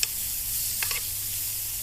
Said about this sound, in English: You just want to heat these through so they're nice and sizzling.